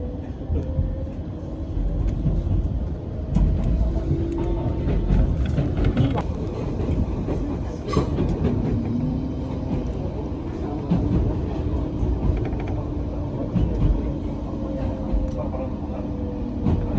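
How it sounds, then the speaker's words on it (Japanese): A local train in Japan running on the line after leaving a station, a steady rumbling hum with rattling and faint squeals, constant and fairly loud from inside the carriage, with a voice speaking over it. "麻生見駅を発車しました。"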